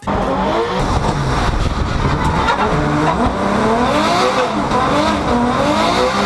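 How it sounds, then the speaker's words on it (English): Subaru BRZ sports car, the budget tuner coupe launched in 2013, driving hard with a steady loud engine drone and shifting revs, tire squeal and skidding mixed in, continuous throughout with no talk. "number 1, we have the Subaru BRZ"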